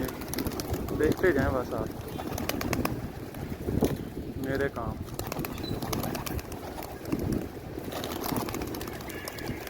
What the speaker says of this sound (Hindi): ये देख लें माशाल्लाह कितना कबूतर सब उड़ा दिया।